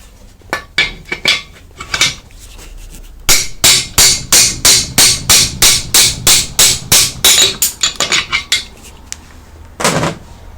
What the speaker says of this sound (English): and we just grab the hammer.